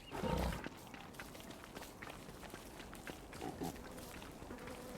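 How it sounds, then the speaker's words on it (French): Pigs oinking in a video game set in a savanna biome, a loud grunt at the start followed by fainter scattered snorts and shuffling steps over background ambience. "Encore des cochons!"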